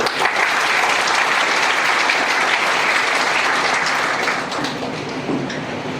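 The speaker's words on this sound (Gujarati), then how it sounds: "માટે સાથે તાળી પાડશો." Sustained applause from a large audience at a Vande Bharat train launch event in Saurashtra, loud and even at first, then tapering slightly toward the end.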